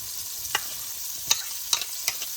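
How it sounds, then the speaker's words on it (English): Butter and minced garlic sizzle in a pan, a steady frying hiss with a few sharp stirring clicks and scrapes, close and fairly loud, no talking. "In the same pan, we'll add 2 tablespoons of butter, 4 cloves of garlic minced"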